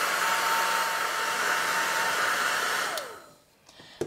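Hair dryer blowing steadily and loudly on acrylic-painted fabric paper for about three seconds, then switching off and winding down, leaving a few faint clicks and handling noises.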